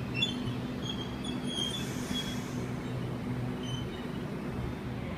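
A Sydney Trains Waratah A50 set on a Richmond service pulls out of platform 4 at Parramatta, giving a low, steady rumble with faint high squeals, moderately distant, without voices.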